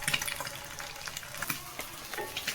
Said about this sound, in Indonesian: Kalau Nick nggak suka telur setengah matang, jadi aku gorengnya sampai matang banget ya.